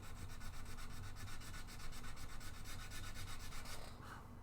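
Steady rhythmic rasping of sandpaper rubbed back and forth over wood while building a guitar, close and continuous strokes with no talk over them.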